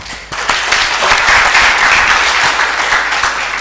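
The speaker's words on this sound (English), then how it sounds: "You deserve a grace of applause." Loud, dense audience applause at a summer school closing ceremony in Ruhengeri, Rwanda, a full crowd clapping steadily and continuously from near the start to the end.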